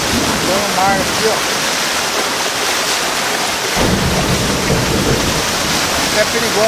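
Floodwater rushing through a flooded area of Itaquiraí, a broad, loud, steady roar of churning water close by, with a brief burst of voices in the middle.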